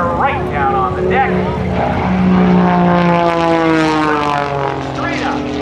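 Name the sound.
Extra 300 aerobatic airplane diving, propeller engine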